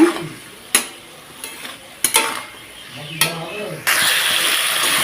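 Potatoes and vegetable stalks sautéing with chili and turmeric powder in a pan, sharp repeated spatula scrapes and clanks over a low sizzle that swells into a louder steady fry at the end, with brief talk.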